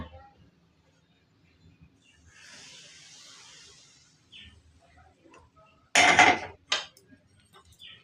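Hot ghee poured into chakli dough in a bowl gives a soft, sustained sizzling hiss, followed by a couple of loud, sharp clatters of a utensil against the bowl.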